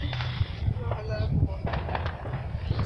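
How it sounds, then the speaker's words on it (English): Fireworks bursting outdoors in a quick series of sharp pops and crackles over low rumbling, with excited voices talking and exclaiming over the noise. "It's one of those fireworks."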